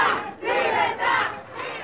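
A crowd of women from the Damas de Blanco celebrates inside a member's house, with loud bursts of cheering and shouting coming in three or four waves.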